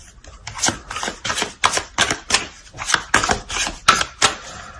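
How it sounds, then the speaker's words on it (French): Playing cards being handled and laid down during a tarot-style reading, a close run of crisp slaps and shuffles repeating about every half second with no talking. "On va rajouter des cartes."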